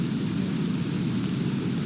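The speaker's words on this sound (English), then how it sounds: "Didn't it just stop raining and it just started again?" Steady, continuous rain falls in the War of Rights video game, a dense even hiss with a low rumble that holds without break and has no talk over it.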